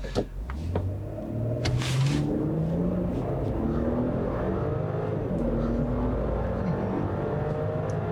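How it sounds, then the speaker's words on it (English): A 2020 Audi Q7 launches hard from a standstill on a canyon road. The engine drone climbs steadily through the gears, loud and continuous from inside the cabin. "Let's try a quick acceleration run really quick here, since there's nobody behind me."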